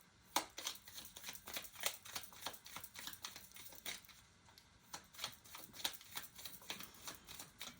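A deck of astrology cards is shuffled by hand, giving a rapid series of crisp riffling clicks and flutters in quick bursts, close and fairly quiet, with no one talking.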